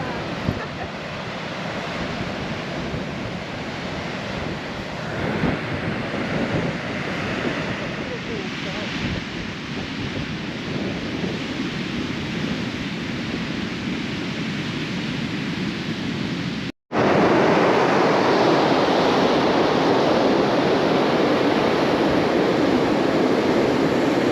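Strong wind and surf roar across an empty Baltic beach in winter, a loud, steady wash of waves and wind buffeting the microphone for the whole stretch, with a brief dropout before it returns even louder.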